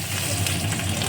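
Garlic frying in hot oil left over from frying eggs, a loud close crackling sizzle that stays dense and steady for about a second.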